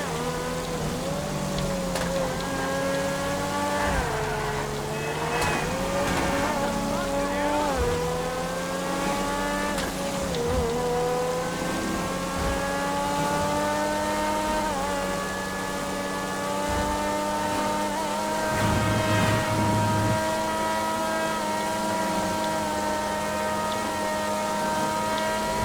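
Car engine in GTA 5 during a high-speed chase after a van, a steady loud drone with shifting pitch that rises and dips as the car accelerates, continuous for the whole stretch with no talking.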